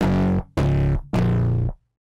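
Electric guitar through distortion and a guitar cabinet effect, three thick sustained power chords struck in succession, each ringing then cutting off, loud and alone.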